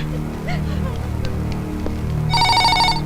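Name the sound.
telephone ringing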